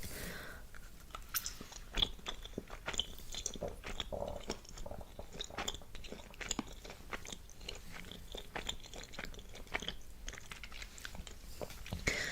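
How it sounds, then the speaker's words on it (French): Candy from a mixed candy assortment being bitten and chewed close to the mic, with a steady run of crisp crunches and moist smacking clicks at an even, unhurried pace, and no talking. "je vais goûter quand même. C'est parti, je vais choisir un petit bonbon."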